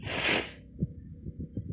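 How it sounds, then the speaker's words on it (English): A single sharp sneeze bursts out loud and close at the start, trailing into quieter breathy sounds and faint low thumps, with no talk. "Oh, I'm going to sneeze again."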